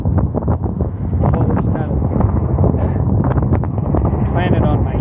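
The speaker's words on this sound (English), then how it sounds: "It's real windy." Strong wind buffeting outdoors, a loud continuous rumbling roar with gusty bursts, and a person talking underneath it.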